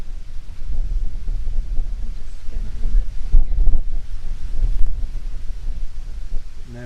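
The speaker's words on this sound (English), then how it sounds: "Now we are suffering today, Amy, with the wind really badly." Strong gusty wind buffeting the microphone in a churchyard at St Mary's, Harkstead, a continuous loud low roar with heavier gusts midway and no voices.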